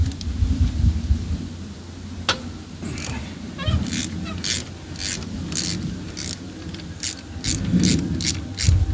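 A ratchet with a 1/2-inch drive socket works a bolt on a rusty 1960 Chevy C10 that has sat for decades, producing bursts of quick clicking over several seconds at close range amid low mechanical rumble.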